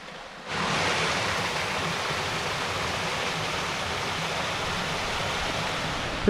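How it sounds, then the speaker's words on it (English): Small waterfalls along a forest hiking trail make a steady, broad rushing wash of water that starts abruptly and holds constant, close and fairly loud, with no voices. "Just tons of little tiny mini waterfalls all the way down as we hike."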